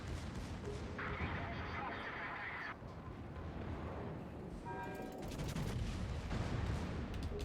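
Main battery guns of the Pommern battleship firing in World of Warships, heavy booming blasts spread across a dense, loud game soundscape with continuous rumble and no talking.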